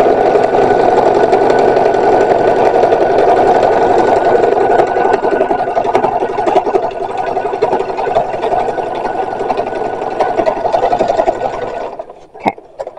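A sewing machine runs steadily for about twelve seconds, stitching a boning channel on a 1920s brassiere with a lengthened stitch setting, its dense mechanical whir continuous and close before cutting off into a few faint clicks.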